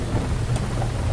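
Heavy rain pours down during a thunderstorm with a deep rumble of thunder, loud, dense and unbroken, with no voices.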